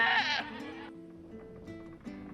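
A goat alert sound plays during a Final Fantasy XVI stream: a loud, close bleat, then a quieter, wavering tail of bleating.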